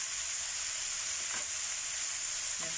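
Smoked fish and bitter gourd sizzle steadily in a pan with spicy tauco, a constant close frying hiss with faint scraping stirs now and then.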